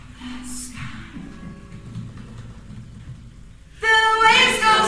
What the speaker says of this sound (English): can you hear the raindrops falling from the sky?